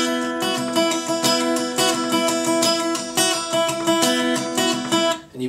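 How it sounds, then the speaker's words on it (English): Acoustic guitar strummed in a steady down-up pattern for a song, bright rhythmic chords ringing out evenly and close, played alone without talk. "down, up, down, up, up, down, up, down, up, down, sort of like that."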